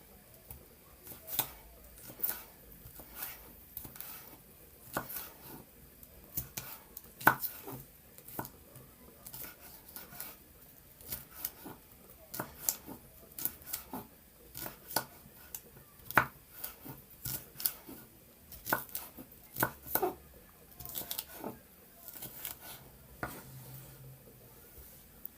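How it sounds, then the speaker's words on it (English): A knife chops sweet pepper on a cutting board for Jamaican-style curry cabbage, giving a steady run of quick, crisp knocks at an uneven rhythm, close and fairly quiet, with no talk. "Now I'm cutting up my natural seasoning, sweet pepper."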